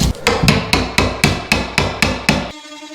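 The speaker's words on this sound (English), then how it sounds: "I'm going getting a hammer" A hammer strikes a straw wall in a house being rewired: nine sharp, evenly spaced blows land close and loud in quick rhythm, then stop, leaving a faint ringing tone.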